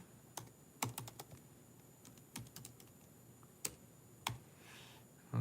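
Quiet, scattered clicks of typing on a computer keyboard as a search is entered, irregular bursts of keystrokes with pauses, close and faint, no talk.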